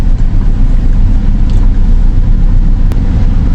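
A seven-seater car driving on a rough ride, its loud low engine and road rumble steady and close throughout with a brief sharp tick near the end.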